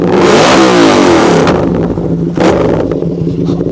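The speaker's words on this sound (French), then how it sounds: "Vas-y, mets un petit coup de gaz là, vite fait!" Yamaha R7 motorcycle with an aftermarket exhaust revving loudly and close up, a sharp blip of throttle rising then falling and settling back toward idle, with no talking.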